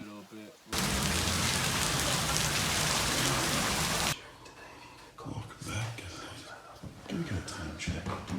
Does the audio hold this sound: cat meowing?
no